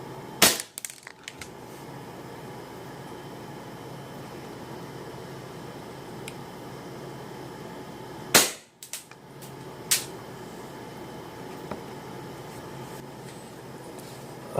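Gunshots fired at ballistic goggles during a test: a sharp loud report near the start, then a second blast around the middle and a smaller crack shortly after, with quiet background between the shots.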